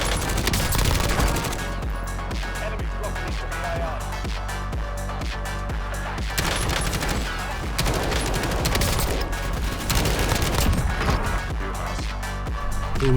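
Rapid gunfire and bursts of automatic weapon fire from the video game Call of Duty Warzone, loud and nearly continuous with repeated shots and crashes throughout.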